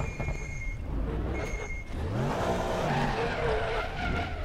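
Tyres skidding and spinning under wheelspin in a racing video game, a loud harsh engine roar giving way to rising, wavering squeal as the car slides through a corner, no voices.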